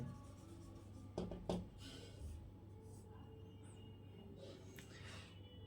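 Chalk or marker scratches across a classroom board as a teacher writes results, with a couple of sharper strokes early on and then fainter, softer writing over a low steady hum.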